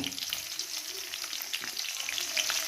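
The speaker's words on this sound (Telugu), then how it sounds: "కొద్దిగా నూనె వేడెక్కగానే పచ్చిమిరపకాయలు వేసాము" Green chillies sizzle in hot oil for chicken fry, a dense close crackle and spit running steadily throughout with light stirring, no voices.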